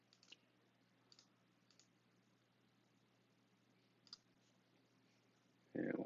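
Mouse clicks on a computer while working in WordPress: a few faint, sparse single clicks spread across a quiet stretch, ending with a short louder burst of noise.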